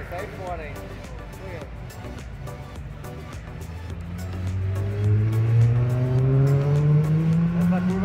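Kombi vans race through a curve at the King Kombi event in Barra Bonita, with engines droning and rising as they pass and tires squealing, while people talk nearby over the noise.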